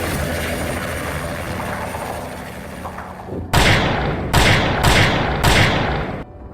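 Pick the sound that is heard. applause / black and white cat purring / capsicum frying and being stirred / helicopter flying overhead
helicopter flying overhead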